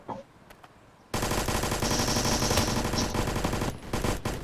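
Automatic gunfire in the Roblox shooter BRM5 erupts after a quiet second and continues as a loud, sustained machine-gun burst, dropping briefly near the end before resuming.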